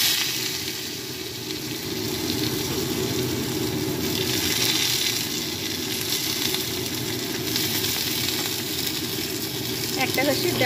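Onions fry in a hot pan after cumin and dried chilli, a continuous loud sizzle and hiss that runs steadily throughout while someone talks over it.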